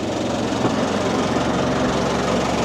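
A steady, loud boat engine drone runs throughout with a low rumbling throb, constant and close, heard from the back of the boat on the water in Cambodia, with no talk.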